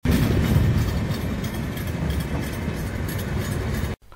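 A train rolls past at a railway crossing near Boisar, loud and close with steady rumbling and wheel clatter throughout, cutting off abruptly near the end.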